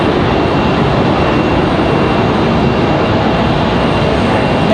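American Airlines jet on flight 1888 bound for Dallas Fort Worth, heard from the Raleigh Durham airport spotting area as a loud, steady broadband engine roar that holds constant throughout with no talk.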